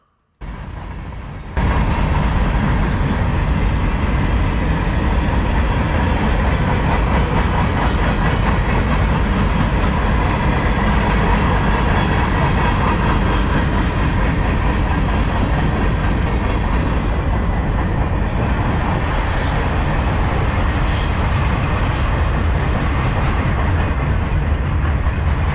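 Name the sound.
CSX freight train Q574 passing with old locomotives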